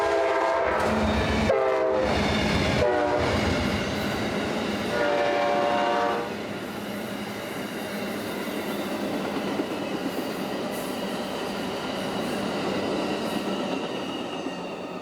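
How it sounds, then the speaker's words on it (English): A fast freight of two locomotives and ten cars passes at Chesterton, opening with several loud horn blasts over heavy rail rumble that settles into a steady, close roar of wheels. "Ten cars plus 2 locomotives moving really fast"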